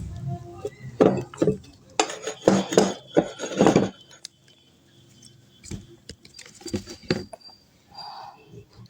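Small cucumbers are dropped and packed into a pickling jar, giving a run of close glassy clinks and knocks in quick clusters, then scattered taps after a pause.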